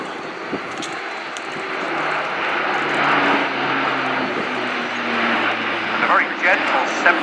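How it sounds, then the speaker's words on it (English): Airbus A400M military transport aircraft performing a flying display at RIAT, its turboprop engines giving a steady, loud, broad roar that swells and fades slightly as it banks, with a commentator talking over it throughout. "This aircraft capable of 90 degrees angle of bank once loaded and 120 degrees of bank during a wing over."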